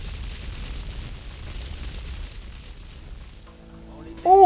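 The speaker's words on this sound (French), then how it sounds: "quand ça explose, ça fait pas semblant, hein." Explosion in the video game GTA Vice City, a loud sustained rumbling blast that slowly fades out, followed by a sudden sharp burst at the end.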